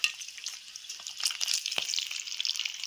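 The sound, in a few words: food frying in a pan on a gas stove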